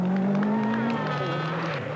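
An Audi rally car at the 1982 Monte Carlo Rally drives past with a brief, loud engine note whose pitch shifts and strains over a couple of seconds.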